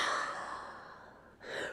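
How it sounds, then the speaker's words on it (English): A long, soft breath is exhaled through the mouth during a yoga psoas stretch, steady and airy, then fading before a short second breath rises at the end; it is close and quiet, with no talk over it. "Take an inhale breath. Exhale through the mouth."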